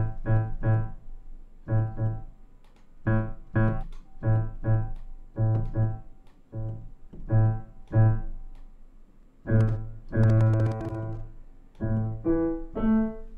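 Convolution reverb modelled on Frank Zappa's Utility Muffin Research Kitchen recording studio, applied to a melodic harmonic instrument: short phrases of sustained pitched notes with pauses between, moderately loud, with a brighter, busier passage near the end and no talk.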